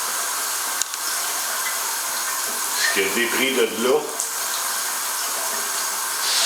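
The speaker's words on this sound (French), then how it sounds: "puis ouvrez la pomme, plutôt ouvrez la douche au maxi" A shower runs at full pressure with its head removed, a loud, steady rush of water pouring from the bare hose, while a person talks briefly partway through.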